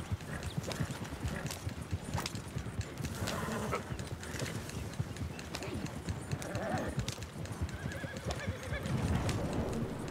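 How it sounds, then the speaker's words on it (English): In the Red Dead Redemption 2 video game, a horse's hooves clip-clop in a busy rhythm while it gives a whinny, with outdoor ambience and a faint voice. "My horse is following me"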